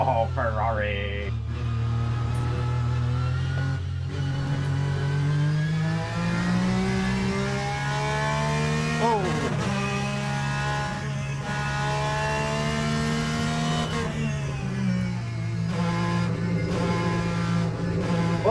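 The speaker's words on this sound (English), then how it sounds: "the beautiful sound of the Ferrari" A Ferrari GT race car engine in the Le Mans Ultimate racing game revs loudly and steadily, its pitch climbing and dropping through gear changes for the whole stretch, with someone talking over it.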